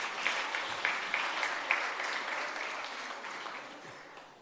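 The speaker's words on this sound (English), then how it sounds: "Another round of applause for the Prof." A hall audience at a college workshop applauds a professor, a crowd's dense clapping with a few sharper claps standing out early, gradually tapering off.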